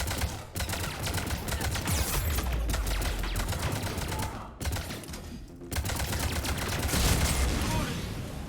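Turret gunfire in the Mass Effect 3 video game, rapid sustained bursts of automatic fire that continue almost nonstop with a couple of short breaks, dense and fairly loud, with faint game voices mixed in.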